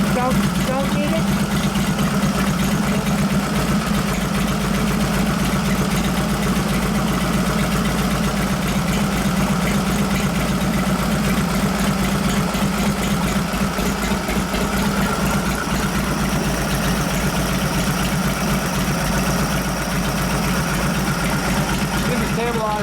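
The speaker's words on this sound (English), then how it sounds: "Now as I was revving up, listen to how the fuel curve is as you're going up and down to the RPM range." A 1989 Harley-Davidson Softail with a 93 ci panhead engine and Mikuni HSR42 carburetor idling loud and steady throughout, a constant rumbling drone with no clear revving.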